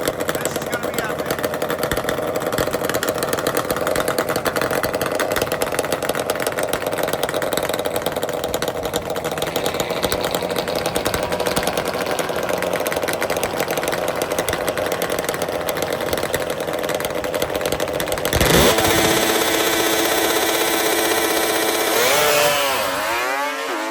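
Two-stroke drag racing motorcycles, including a Suzuki GT 750 and a snowmobile-engine machine, scream at high revs in a loud, sustained, raspy drone, then shift pitch and rise sharply near the end.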